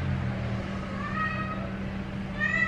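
A cat meows repeatedly, two drawn-out rising and falling cries close by over a steady low background hum, with no talking.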